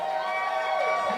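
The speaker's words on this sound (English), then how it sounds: "You can hear that crowd in the background just screaming away for her." A crowd at a strongman competition screams and cheers in a steady, loud roar with sustained shrill voices, continuous through the brief moment.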